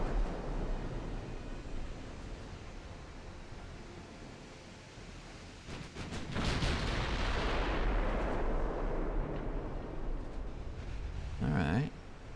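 Heavy naval gunfire from Ultimate Admiral: Dreadnoughts, with a steady low roar broken by a sudden loud broadside blast midway that swells into a long rumbling wash, and a brief voice near the end.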